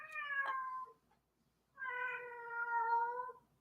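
A pet cat meows twice up close, a short cry followed by a brief pause and then a longer, sustained meow, with no voices present.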